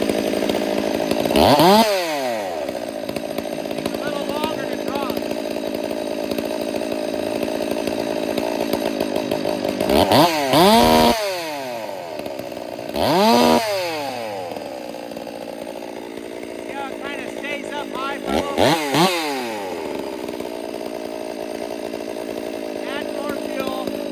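A chainsaw engine runs at idle during carburetor tuning, a steady close drone with several sharp revs rising and falling, while someone talks between them.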